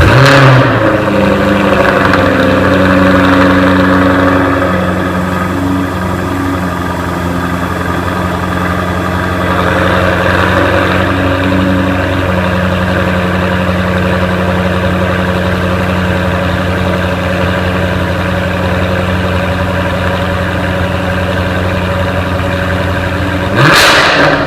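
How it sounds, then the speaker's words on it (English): A 2015 Jaguar F-Type R Coupe runs with a loud, steady, deep exhaust drone and engine hum close by, holding an even idle throughout and ending with a brief sharp rise at the very end. "now let's turn on the engine and listen to the exhaust sound"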